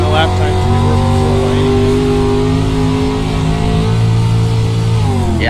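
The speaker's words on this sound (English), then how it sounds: "If you listen to the replay, the engine RPM is down significantly at this point." A loud race car engine drones steadily on the track with sustained, slightly wavering harmonic tones at lowered RPM, and a commentator's voice talks over it.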